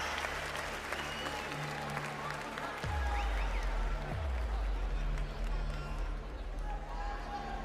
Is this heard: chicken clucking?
no